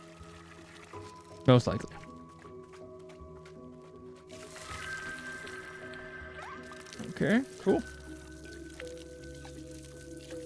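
Water pours and sloshes into a watering can in the video game Wanderstop, a soft liquid trickle running beneath a relaxed voice chatting over it, with a few louder splashy bursts.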